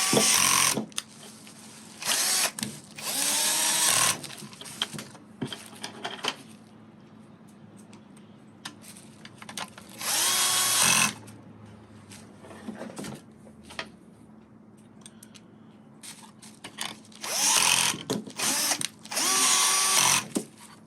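Power drill driving four screws on the side of a car stereo unit during a CarPlay install in an Infiniti Q50, heard as several short high whirring bursts of varying length with quiet fiddling between them and no talking.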